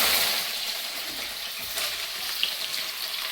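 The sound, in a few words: green chillies and curry leaves frying in oil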